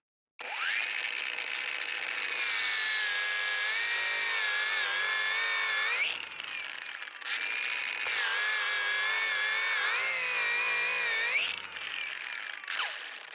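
A Parkside Performance PWSAP 20-Li G7 cordless angle grinder with a 12 Ah battery whines at a high pitch on first speed, grinding with a grit-60 Cubitron flap disc in long sustained passes, pausing briefly between runs, close and loud.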